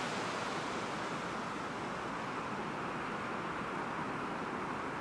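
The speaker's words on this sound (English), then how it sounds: "What's with the sound? I feel like I'm at the beach." A beach-like water ambience from the video game Skyrim, a steady broadband wash like surf or rushing water that holds at a constant, moderate level without pauses or voices.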